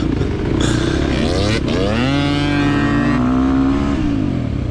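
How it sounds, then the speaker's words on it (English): KTM 350 XC-F dirt bike in a hare scramble race, engine revving up hard with climbing pitch, then dropping off as it brakes hard, loud and close with other motorcycle engines droning beneath. "Accelerate right into a hard brake"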